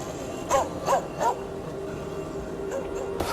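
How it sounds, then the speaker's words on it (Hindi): A dog barks three times in quick succession, then gives a fainter yip, set against a low steady background hum. "नवीन की कब्र को देख रहा था और उसको देखकर भौंक रहा था।"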